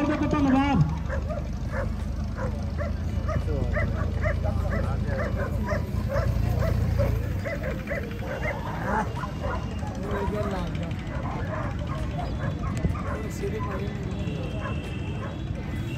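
Greyhounds barking and yipping at a village dog race in Tarn Taran, Punjab, in 2023, repeated barks scattered through a dense crowd din with people talking and an announcer-like voice throughout.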